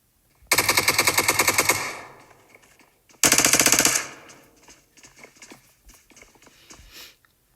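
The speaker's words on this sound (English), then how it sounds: "provide a little more support, with Naughty returning fire as Sweet and Gavster remain in the top floor" Rapid automatic gunfire from the PUBG video game during a squad scrim: two loud bursts of fast shots near each other, the second shorter, followed by faint scattered distant shots.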